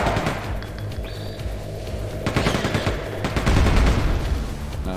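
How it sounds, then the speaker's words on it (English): Machine gun in Quake 2 firing rapid, loud bursts of repeated shots, with heavy booming impacts and a steady rattling rhythm across the stretch. "this machine gun was always a bit of a bitch to control, a lot of recoil"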